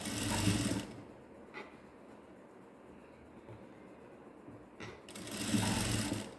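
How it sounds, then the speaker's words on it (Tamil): A sewing machine stitches a shoulder seam from the bottom up, with a loud close burst of rapid stitching at the start, a quiet pause, then another run at the end. "நான் இதை கீழிருந்து தைச்சிட்டு வரேன்"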